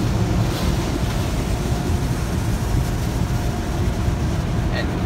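Car wash air dryers blowing at an express car wash, a loud, steady roaring rush of air that fills the whole stretch without a break.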